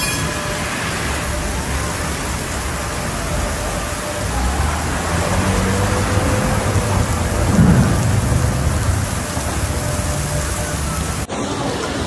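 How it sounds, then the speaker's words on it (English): Heavy rain pours down during a powerful thunderstorm in Zurich, a loud dense roar of rainfall with deep rolling thunder rumbling underneath, steady throughout. "Witnesses reported heavy rain that quickly submerged part of the train station."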